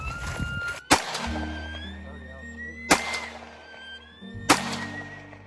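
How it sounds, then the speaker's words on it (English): Three sharp, loud AR-15 rifle shots spaced about two seconds apart, fired at tannerite packed in a can, each a crisp crack with a ringing tail outdoors, with a constant engine hum in the background. "we're gonna shoot some tannerite with the AR-15"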